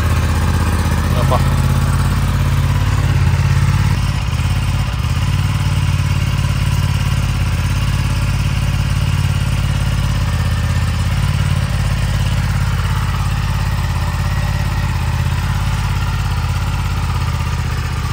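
A fully loaded KTM 390 Adventure motorcycle runs steadily for the whole stretch, its single-cylinder engine holding a loud, continuous idle-to-rev drone close by with a slight clatter and no talk over it.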